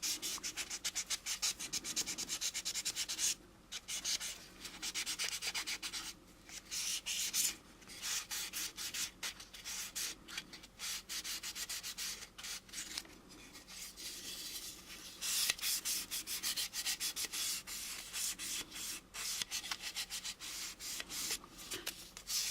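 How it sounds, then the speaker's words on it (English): Sandpaper rubs across gloss paint on an AMT U.S.S. Enterprise model kit between coats, a close scratchy swishing in quick repeated strokes with a few short pauses. "the other reason to sand in between coats is to make sure that everything is nice and smooth"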